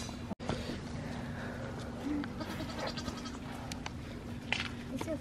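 Goats bleat now and then across a busy outdoor farmyard, with scattered rustling and a low steady hum underneath.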